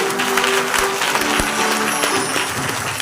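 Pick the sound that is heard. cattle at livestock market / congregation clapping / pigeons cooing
congregation clapping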